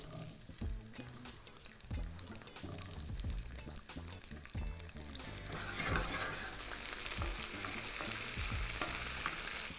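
Cherry tomatoes hit garlic-infused oil in a frying pan, giving a steady close sizzle with stirring clatter that swells louder and brighter about halfway through.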